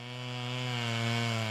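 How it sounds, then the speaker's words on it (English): A chainsaw cuts into the frozen ice of Wild Bill Lake in the Custer-Gallatin National Forest on New Year's Day, a steady sustained buzzing drone with a slight rise in pitch. "paired with a chainsaw in the distance cutting into Wild Bill Lake"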